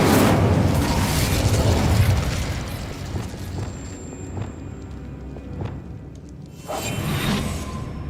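An Incendio fire spell cast in Hogwarts Legacy: a loud fiery whoosh and burst at the start that fades into a crackling tail with scattered clinks, then a second swelling whoosh near the end, with no talking.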